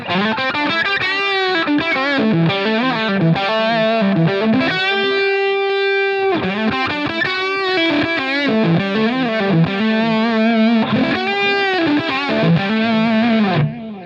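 Heavily overdriven electric guitar through a Line 6 Helix overdrive pedal model, playing loud, sustained chords and riffs with a thick, saturated tone, continuous throughout with no talking.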